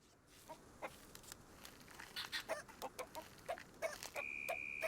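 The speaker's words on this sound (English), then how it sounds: "We're back to the chicken sound song." Chickens cluck in the Baby Steps video game, a run of short repeated clucks that grows busier and louder, ending with a sustained tone, no talking.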